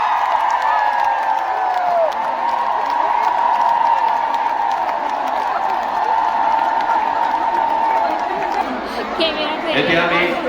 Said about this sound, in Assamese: আমি সকলোকে থিয় হৈ হাত চাপৰি আৰু উৰুলিৰ সৈতে তেখেতক আদৰণি জনাবৰ কাৰণে আহ্বান জনাইছোঁ